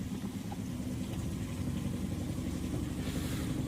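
A canal boat engine runs steadily on the Bridgwater and Taunton Canal, a low, even mid-rumble throbbing continuously at modest revs with no talk over it.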